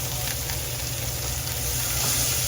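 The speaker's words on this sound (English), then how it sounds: "And then the bacon is starting to cook." Bacon sizzling steadily in a hot pan as it starts to render, a continuous close crackle and hiss with no talking.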